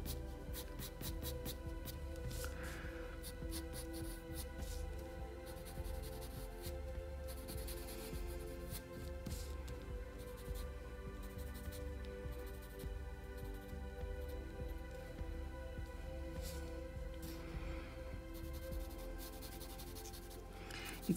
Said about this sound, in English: take the charcoal pencil